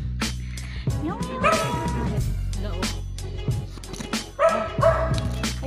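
A dog barks and yips repeatedly in short bursts, close by, with some whimpering between the barks.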